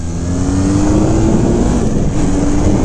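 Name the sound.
motorcycle engine exhaust note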